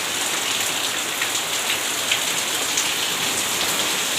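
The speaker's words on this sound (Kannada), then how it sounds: "ಮನೆಯ ವರಾಂಡದಲ್ಲಿ ಸುರಿತಾ ಇರ್ತಕ್ಕಂತಹ ಮಳೆ." Heavy rain pours steadily onto a house veranda, a dense, even hiss close by that holds without a break and has no voices over it.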